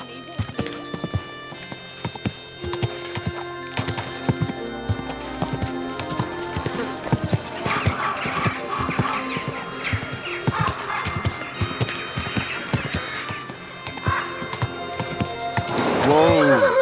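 Horse hooves clip-clop in a steady rhythm in Kingdom Come Deliverance 2, with game music and a voice over them, and a whinny close by near the end.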